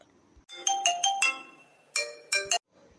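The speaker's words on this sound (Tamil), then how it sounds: "ஐயோ, மாமா கால் பண்ணுறாரு." Phone ringtone for an incoming call in an animated cartoon, a bright electronic tune of rapid chiming note bursts in two phrases separated by a short gap, clear and alone without talk.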